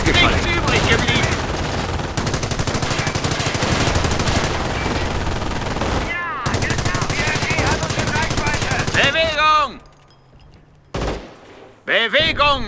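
Machine gun fire in Company of Heroes, long loud sustained rattling bursts close by, broken by brief pauses, then shorter bursts and a voice speaking near the end.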